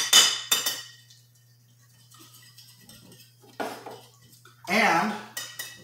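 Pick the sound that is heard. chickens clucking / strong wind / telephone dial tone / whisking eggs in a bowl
whisking eggs in a bowl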